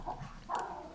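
Dog barking twice in quick succession, short muffled barks heard from some distance away.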